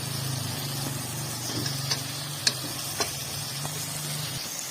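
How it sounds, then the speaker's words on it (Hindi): Boiled chicken dropped into a pan of sizzling potatoes, giving a steady frying hiss with a low hum underneath and a few small clicks and scrapes as it is stirred in. "अब मैं इसमें चिकन डालूंगी।"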